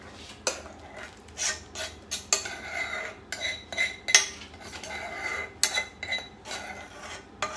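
A metal spoon scrapes and clanks repeatedly against a pan while stirring chicken taco casserole filling, irregular strokes close up with bright metallic rasps.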